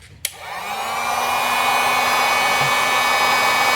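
A heat gun blowing hot air to shrink generic heat shrink tubing over connector wires on a Jeep Grand Cherokee license plate light, starting with a click and ramping up to a steady, loud whirring hiss.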